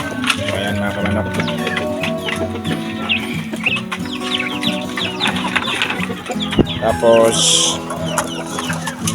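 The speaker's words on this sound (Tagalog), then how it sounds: "So ayan mga kamanok." Small stunted chickens cluck on a backyard poultry setup, with short bursts of hen clucking and fowl calls at moderate distance. Someone talks over the birds throughout.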